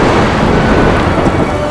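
A loud, steady thunderstorm roar with a deep rumble and the hiss of rain runs unbroken through this fairy-tale sound effect, with no voices.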